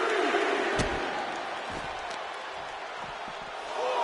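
A wrestling arena crowd in the video game WWE 2K25 gives a continuous, broad roar of cheering and noise. It swells slightly near the end, with a few faint thumps underneath.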